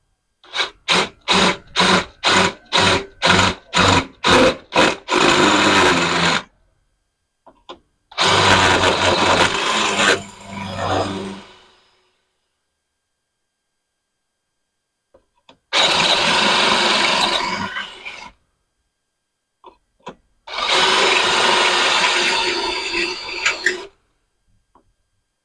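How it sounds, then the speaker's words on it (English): A surface cutter countersinks holes for a Tusk skid plate on a Kawasaki KLR 650, giving a quick run of sharp rhythmic bursts followed by three longer, loud whirring spells with silent gaps between them. "This is a surface cutter just to make sure we're right in countersunk."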